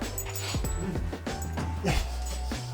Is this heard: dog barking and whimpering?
yes